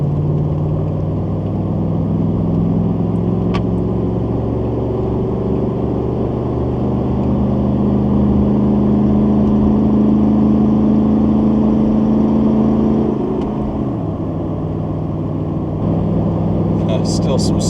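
A car with a swapped-in 6.2L engine cruises along, its steady mid-range engine drone dipping and rising around a gear change near the end, under a voice speaking throughout.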